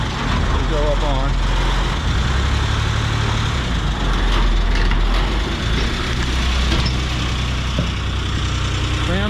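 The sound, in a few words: diesel vehicle engine driving up trailer ramps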